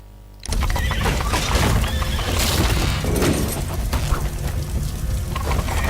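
A horse whinnies loudly over a dense, rumbling soundscape in the video game Sherlock Holmes: The Devil's Daughter, sustained noise filling the whole clip after a sudden start.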